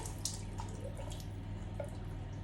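Chickpea can liquid, aquafaba, is poured into a sieve, giving a few small close drips and splashes over a low steady hum, with no talking.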